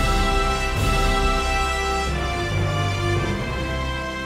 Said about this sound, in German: Musikalisch von Bedeutung ist für Kroatien natürlich auch die Nationalhymne des Landes.